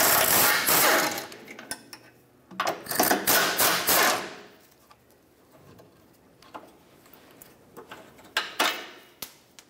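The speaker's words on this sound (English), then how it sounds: "Now I want to take off these 2 10 millimeter bolts to free up this bracket." Hand tools working two 10 mm bolts off an exhaust bracket under a 2013-2019 Ford Escape, with bursts of ratcheting and metallic clicking and scraping close by, separated by quieter pauses and a few sharp clinks.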